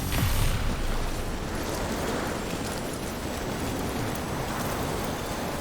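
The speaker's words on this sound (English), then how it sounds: "But it certainly is raining hard." Heavy rain pours in the Death Stranding video game, a dense and loud steady roar of falling water that continues without a break and without speech.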